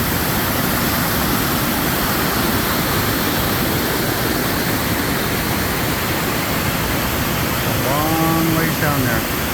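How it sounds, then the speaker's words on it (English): Virgin Creek Falls in Girdwood, Alaska roars as a loud, unbroken rush of falling water close by, with a voice speaking briefly over it near the end. "That's a big waterfall."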